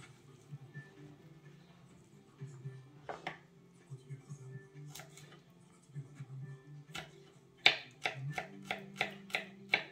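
A knife chops onions and peppers on a board for a caramelized oven pork roast, scattered soft taps at first, then a run of crisp, evenly spaced strokes near the end, with background music and a voice.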